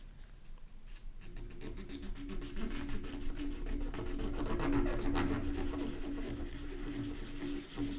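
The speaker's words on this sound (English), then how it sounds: "Just sanding away." Abrasive sanding of a D&D miniature held flat against the surface, a steady close rasping rub with repeating back-and-forth strokes that runs continuously without pause.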